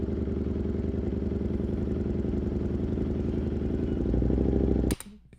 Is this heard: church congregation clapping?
no